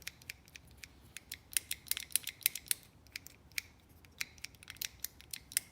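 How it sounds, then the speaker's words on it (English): A Pontiac Fiero power window switch clicks over and over, giving sharp, close, fairly quiet clicks in irregular bursts against a low background hiss. "Kind of like that old click noise"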